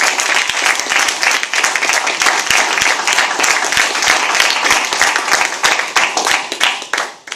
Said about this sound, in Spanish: yo creo que un aplauso enorme